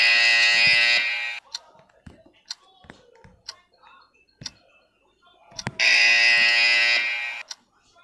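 An alarm blares in a Squid Game video game, a loud sustained buzzing tone for about a second at the start and again later, with soft clicks and quiet background sounds between the two blasts.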